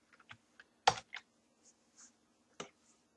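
Computer keyboard keys pressed for a Control-Shift-3 shortcut: a sparse run of about eight crisp, close plastic clicks with one sharper, louder keystroke near the start, in a quiet room.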